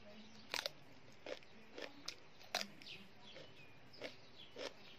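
Someone bites into a spicy Thai canned fish salad outdoors among flowers, with several sharp, close crunching bites spaced irregularly over soft background birdsong.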